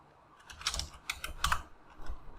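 Several bursts of quick keystrokes on a computer keyboard while entering a .NET command in VS Code, with short pauses between clusters, close and moderately quiet, no voices.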